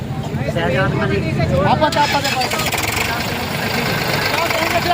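Tractor engines rumble loudly and continuously at close range as crowds travel past in tractors at a political gathering in Mirapur. Voices talk over the steady, knocking drone throughout.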